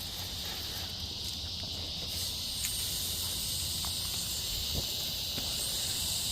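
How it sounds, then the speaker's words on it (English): Cicadas drone in a steady, unbroken high buzz outdoors, holding an even level from start to finish with no one talking. "They get so loud. Those cicadas."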